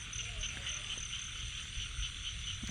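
Frogs croak at night during light rain in rural Thailand, a dense chorus of rapid repeating calls with a high insect-like trill running continuously underneath, moderately near and steady.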